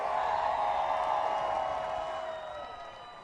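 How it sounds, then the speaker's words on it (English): Crowd cheering and applause at a Savannah Bananas pop-up game on a high school field, a broad sustained roar of voices and clapping that slowly fades toward the end. "let's also give a round of applause for the Savannah Bananas"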